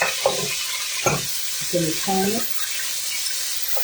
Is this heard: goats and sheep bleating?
no